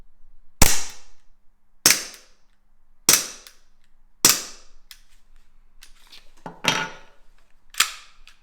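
An Umarex Glock Gen 4 CO2 pistol fires six sharp, loud cracks at roughly one-second intervals, each shot followed by a brief hiss of gas, heard up close with near silence between.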